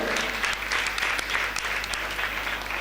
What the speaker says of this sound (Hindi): एक बार तालियों से इनके लिए अनुमोदना हो जाए।